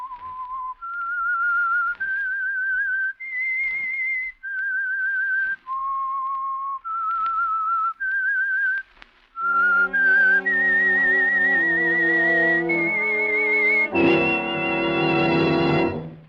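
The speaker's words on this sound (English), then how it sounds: "That whistle is your signal" A solo whistled melody, the signature tune of the 1947 radio drama The Whistler, a slow run of clear sustained notes stepping up and down, then joined by a fuller orchestral swell underneath toward the end.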